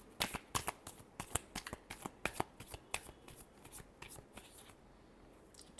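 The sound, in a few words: shuffling tarot cards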